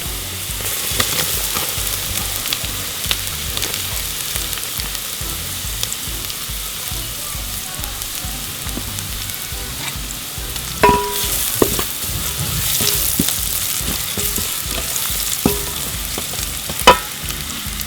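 Onion and carrots fry in a pan for a peas dish, with a steady, dense sizzle throughout. Occasional louder clicks and scrapes of stirring come through, and no talking is heard.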